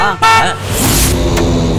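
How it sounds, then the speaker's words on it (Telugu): A car horn gives a loud, close honk of under a second, followed by a hissing rush of noise, in a dramatic night scene outside a house. "హారన్ కొట్ట."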